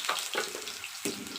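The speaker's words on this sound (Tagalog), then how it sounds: "prito ko po muna ang patatas bago ko ihalo" Potatoes fry in hot oil in a pan for pork adobo, giving a steady close sizzle with a few bursts of louder crackling.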